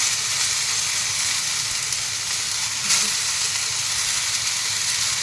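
Mint, fenugreek leaves and green chillies fry in a kadai for mutton biryani, giving a steady, loud sizzling hiss that holds evenly throughout with no talk.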